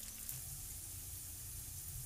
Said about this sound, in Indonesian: Goreng di minyak panas di api sedang, goreng sampai garing kecoklatan.